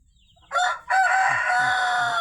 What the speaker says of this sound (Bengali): এই যে দেখুন দেশি মুরগির ফার্ম